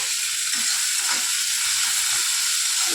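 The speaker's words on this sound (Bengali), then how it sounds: "আমটা ভালো করে আমরা নেড়ে নিচ্ছি তেলে" Raw mango pieces fry in oil while being stirred, making a loud, steady, close hiss of sizzling with faint scraping underneath and no talk.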